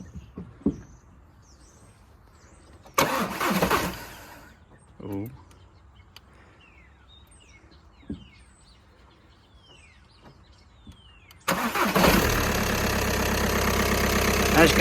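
A VW Caddy van's 2 litre TDI diesel engine cranks and briefly fires, goes quiet, then starts and settles into a loud, close idle. Birds chirp faintly in between and a voice briefly exclaims.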